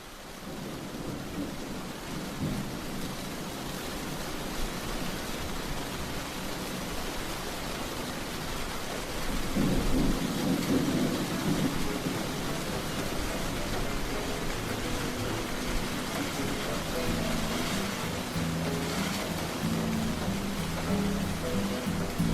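Steady heavy rain pours in a dense hiss, with low thunder rumbling partway through; no voices.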